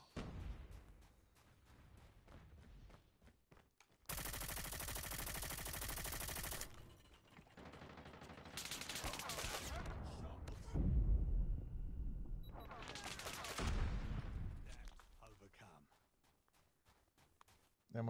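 Automatic gunfire from Call of Duty Mobile comes in long rapid bursts broken by pauses, loud and close, with a player talking over parts of it.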